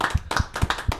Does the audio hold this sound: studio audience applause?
yes